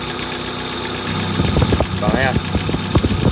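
A 2016 TMT 990kg gasoline light truck engine idles with a close, even mechanical hum and knock, while someone talks over it.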